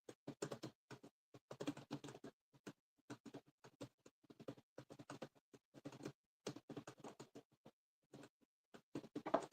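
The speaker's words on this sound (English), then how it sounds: "I'm just typing him a message real quick." Soft, quick keystrokes patter on a computer keyboard as a message is typed, coming in irregular bursts with brief pauses, close and faint.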